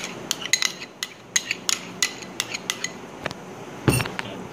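A spoon stirring fruit chaat with tutti frutti and vanilla ice cream in a bowl, giving a string of light clinks and scrapes against the dish at an irregular rhythm, close up, with no talking.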